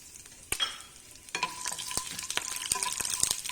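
Slit green chillies dropped into hot oil with chana dal, a sharp burst of sizzling followed by steady frying crackle and stirring scrapes, close and continuous.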